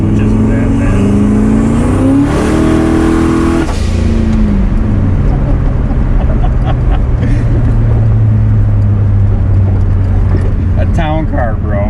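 A Lincoln Town Car engine with a turbo drones and revs up and down continuously, loud and close, with people talking over it.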